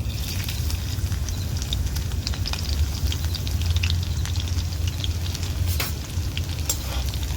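About a dozen crushed garlic cloves frying in hot oil in a kadhai make a continuous crackling sizzle with scattered sharp pops.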